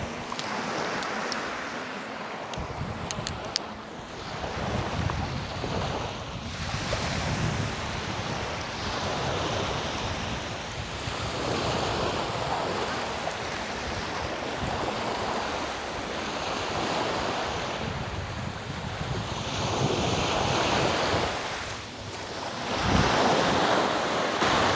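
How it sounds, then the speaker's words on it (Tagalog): Ocean waves break and wash ashore in slow repeated surges, a broad roaring wash swelling and easing every few seconds, with wind noise buffeting the microphone. "Alon."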